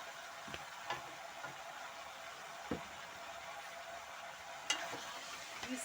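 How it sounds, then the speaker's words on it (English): Onions and capsicums are stirred in a cooking pot over a low, steady sizzle, with occasional soft scraping knocks of the spoon against the pot. "We stir our pot"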